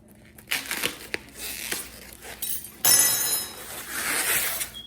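A knife slices open a cardboard Amazon delivery package, with close crinkling, scraping and tearing of packaging in irregular bursts that grow louder and denser toward the end.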